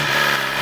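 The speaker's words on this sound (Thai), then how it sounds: "เดี๋ยวฟังเสียงสตาร์ทดู" A BMW S1000RR motorcycle engine on stock exhaust runs steadily and loudly up close, a constant mechanical drone with no break across the short stretch.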